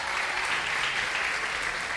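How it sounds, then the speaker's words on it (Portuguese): A church congregation claps together in worship, a dense steady burst of applause filling the whole moment, loud and continuous with no voices over it. "Vamos dar a melhor salva de palmas para o Senhor Jesus."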